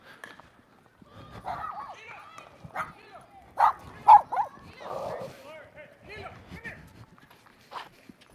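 Small dogs bark near a park with tennis courts, with several sharp yips and barks scattered through the clip, close by and mixed with a person talking.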